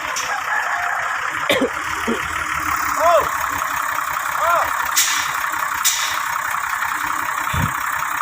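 A Kobelco 200-3 excavator's diesel engine runs steadily at a near distance, a low continuous rumble with a few brief clanks and hisses, while people talk over it.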